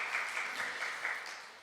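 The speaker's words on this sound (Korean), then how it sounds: "우리 할렐루야 성가대 분들께 감사하는 마음으로 한 번 더 박수하고 또 하나님께 영광의 박수 올려드리겠습니다." Congregation at a Wednesday worship service applauding the choir, a sustained wash of clapping from many hands that slowly fades toward the end, with no talk over it.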